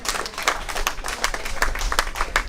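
Crowd applause at a Tivoli Gardens gathering, a dense steady clatter of many hands clapping, fairly near and sustained with irregular sharper claps standing out.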